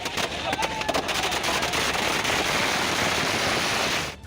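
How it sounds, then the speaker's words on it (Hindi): Firecrackers set off by TMC party workers in the middle of a street in Asansol give rapid crackling pops over a dense, continuous roar of street noise with no gaps. "बीच सड़क पर टीएमसी कार्यकर्ताओं ने जमकर आतिशबाजी की"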